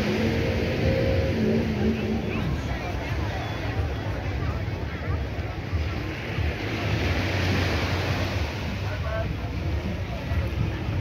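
Surf at Barbados Beach in Bridgetown washes in a continuous broadband rush, mixed with gusty wind noise on the microphone, steady and fairly loud throughout.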